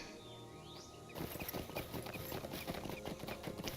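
A horse in the Lord of the Rings Online video game clip-clops at a quick, even pace in Rohan. The hoofbeats begin suddenly after a quiet moment, with faint bird chirps in the background.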